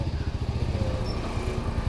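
Motorcycle riding down from the summit of Mount Telomoyo, its engine putting out a close, steady, pulsing low drone with a faint whine above it.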